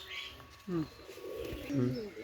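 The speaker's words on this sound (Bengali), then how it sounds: "আপনারা কবুতরগুলো দেখে নেন" Pakistani Teddy pigeons cooing softly in short low calls, two or three coos heard up close over a steady background hum.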